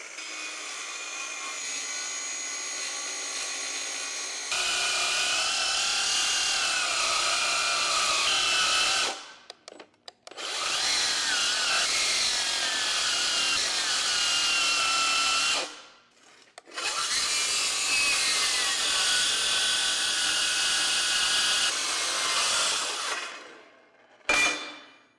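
A powered saw grinds steelily through thick steel plate for a machine-shop faceplate, a loud sustained whining cut with shifting pitch that pauses briefly twice before resuming, no talk.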